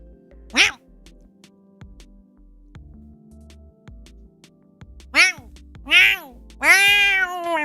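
A person imitates a cat, making several meow sounds: one short meow early, then a run of rising and falling meows near the end, close and fairly loud.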